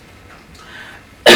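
A single sharp, loud cough from a speaker who has been ill, bursting out near the end after a quiet room stretch at a crowdfunding talk for rare disease patient groups.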